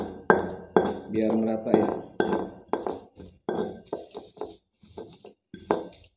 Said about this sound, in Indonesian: Nah, sekarang kita aduk lagi